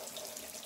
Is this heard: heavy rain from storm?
no